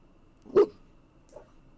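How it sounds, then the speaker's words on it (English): A single dog bark, fairly close and clear, followed by a fainter short yip about a second later, with quiet room noise between. "My dog here's doing stuff."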